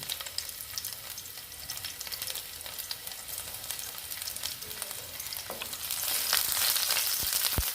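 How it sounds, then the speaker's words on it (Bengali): Garlic cloves sizzle and crackle steadily in hot oil for a Bengali loitta dried-fish and potato curry, the frying growing louder toward the end with a few sharp utensil clicks. "তেলটা গরম হয়েছে, এবার আমি দিয়ে দিচ্ছি রসুনগুলো"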